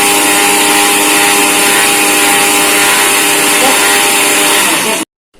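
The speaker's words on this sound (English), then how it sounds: "We will grind it again." A mixer grinder churns coconut and jaggery with a loud, continuous motor whine that holds steady, then cuts off abruptly near the end.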